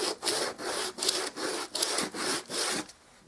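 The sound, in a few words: sanding the edge of bare wood baseboard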